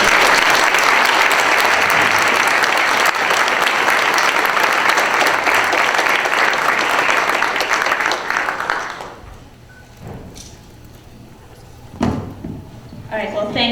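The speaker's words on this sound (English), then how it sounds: "So please give a round of applause to our 2016 ICE." Audience applause fills a closing ceremony hall for about nine seconds, dense and steady, then fades out, leaving quiet room noise with a few scattered sounds.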